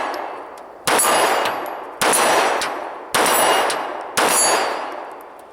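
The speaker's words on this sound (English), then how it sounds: "we've got our steel plate, and we'll just see if we can hit it and ring it a few times" Four loud pistol shots from an M&P 9c ring a steel plate 25 yards away, each sharp crack followed by a bright metallic clang that decays over roughly a second, spaced evenly with no talking.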